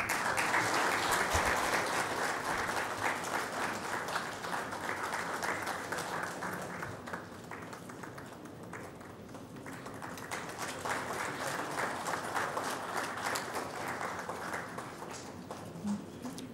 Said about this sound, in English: Ladies and gentlemen, can we have a big round of applause?